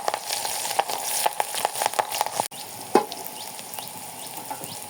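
Green chilies and onion fry in hot oil in a kadai for a Bengali chorchori, a close crackling sizzle with quick spits and clicks that eases into a softer hiss.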